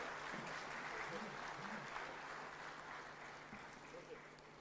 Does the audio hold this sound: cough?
no